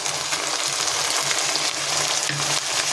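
Ginger and green chilli paste with spices frying in a pan, a steady, close sizzle that holds without a break and shows a few small bursts of crackle.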